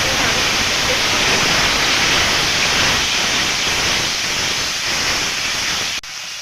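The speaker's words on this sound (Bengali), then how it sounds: "জল দিয়ে আরও একটু কষিয়ে নেব" Water poured onto hot spice masala in a pan for a mustard fish curry, a loud, dense steaming hiss that holds steady for several seconds before dropping abruptly near the end.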